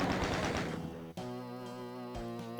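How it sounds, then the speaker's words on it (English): Chain gun firing in the video game Doom: a rapid burst of repeated shots at first, then a lingering tonal sound with a few more sharp clicks and pops, fairly faint overall. "we've got the chain gun here. This is the new weapon."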